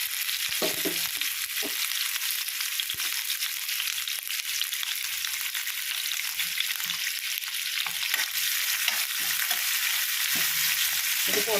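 Coconut and chana dal fry in sesame oil for a carrot chutney, giving a steady, close hiss and crackle that runs the whole time, with a few scraping stirs and no talk.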